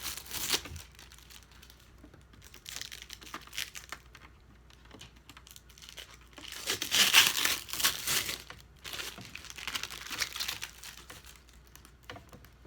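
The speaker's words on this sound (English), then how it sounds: "I'm going to take plastic off." Protective plastic film is peeled off the side of a Cricut Explorer Air 2 cutting machine, making close crinkling and crackling bursts that swell and fade in irregular waves.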